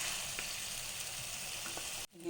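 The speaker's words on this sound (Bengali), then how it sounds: "এখন এটাকে একটু সময় ভাজবো" A paste of green chilli, onion, garlic and ginger sizzles steadily in hot oil, with a dense, even frying hiss throughout and a few faint stirring clinks before it cuts off abruptly near the end.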